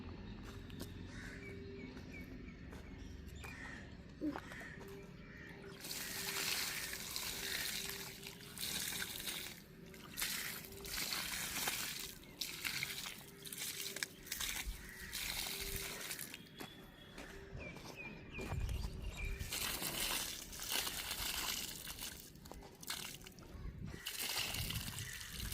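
Water poured slowly by hand from pots onto garden soil while planting saplings, a continuous soft sloshing and trickling with splashy bursts, fairly close, with occasional footsteps and no talk.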